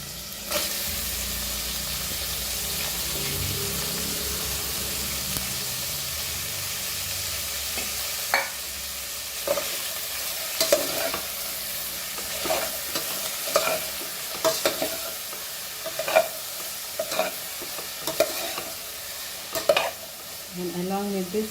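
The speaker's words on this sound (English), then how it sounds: "Fry my onion." Onion frying in a pan for Goan pork bafat curry, a continuous close sizzle that gives way to repeated rhythmic spatula scrapes and taps against the pan through the second half, no talking.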